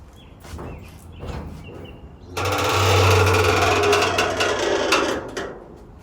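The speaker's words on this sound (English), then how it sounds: "So I had a tiny squeak on my trunk hinges, so I've sprayed some lithium grease on the hinges." Trunk hinges on a 1936 Chevy swing after a spray of lithium grease. A few soft, light ticks give way to a louder, sustained mechanical grinding and rustling of the moving lid, close up.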